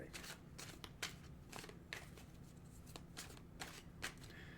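A deck of cards shuffled by hand in repeated quick riffles and bursts of papery flutter, close and fairly quiet, about once a second.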